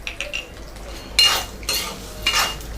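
Puffed rice and peanuts with masala powders being dry-roasted in a pan, heard as short close bursts of rustling, scraping stirs with faint metallic clinks between them.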